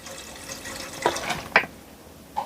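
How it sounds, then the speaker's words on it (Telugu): Cool water is poured over freshly boiled egg noodles, heard as a faint running trickle with a few brief splashes, alone and close. "Cool water పోసేసుకోవాలి."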